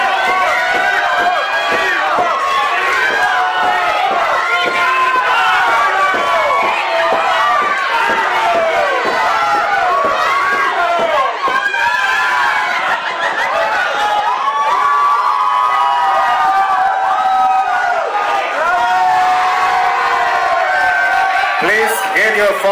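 Crowd at a lucha libre wrestling show in Brisbane yelling and cheering loudly, a dense continuous roar of many voices with whoops and children's shouts throughout.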